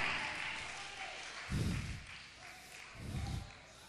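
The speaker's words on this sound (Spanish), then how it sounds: "Suéltale ese aplauso fuerte a Dios en esta noche." A church congregation breaks into applause in two short bursts, loud and close, over a steady background hum of the hall.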